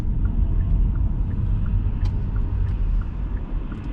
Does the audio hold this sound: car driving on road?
yes